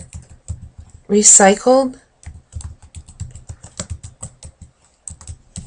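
Keys on a computer keyboard tapped in a steady run of light clicks while entering a material name into a schedule filter in design software; a voice speaks briefly over part of the typing.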